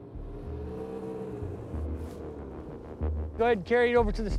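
A snowmobile engine in Alaska hums low and steady near a rooftop, rising briefly now and then, with voices toward the end.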